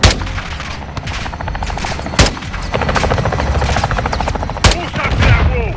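In Call of Duty Modern Warfare II, an air strike fires on a building: rapid, heavy cannon bursts with sharp impact cracks, loud and close, coming in repeated volleys under a helicopter-like drone.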